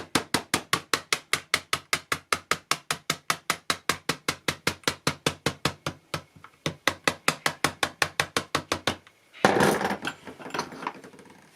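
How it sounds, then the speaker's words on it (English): A screwdriver is used as a hammer to tap the body of an airsoft MP7 gas blowback rifle into place: a long, rapid, even series of sharp knocks, briefly pausing, then a final burst of scraping clatter. "it's handy dandy screwdriver hammer time"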